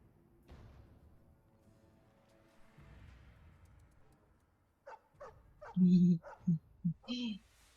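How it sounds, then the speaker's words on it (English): Dog barking and whimpering in the video game Dragon Age: Origins, a burst of loud yips and barks near the end after quieter background sounds, with a voice talking earlier. "It's you! Hello, puppy!"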